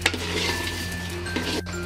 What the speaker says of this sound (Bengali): চালটা ভাজার সময় অনবরত নাড়তে থাকবেন